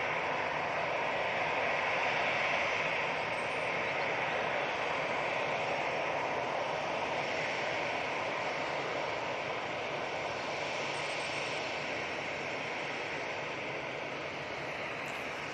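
An Airbus A319 jet engine roars steadily on takeoff at Manchester Airport in a broad, sustained rumble, loud and constant throughout with only a slight fade toward the end.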